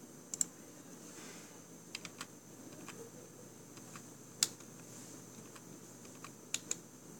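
Typing on a computer keyboard while coding in Java: quiet, sparse clicks with a few sharper isolated key strikes over faint room hiss, no voices.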